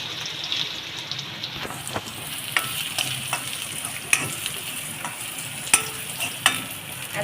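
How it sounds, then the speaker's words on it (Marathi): Finely chopped ginger and garlic frying in oil for a paneer chilli dish, a steady close sizzle broken by several sharp scraping stirs of the spoon against the pan. "आता त्यामध्ये मी हे आलं टाकते कापलेलं बारीक. त्याला पण थोडं तेलामध्ये परतून घेते."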